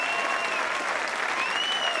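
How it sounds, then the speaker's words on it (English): Continuous clapping sound effect playing during an online coding workshop, a dense even wash of applause with a faint bright tone sweeping through it. "This, wow, the clap keeps going on."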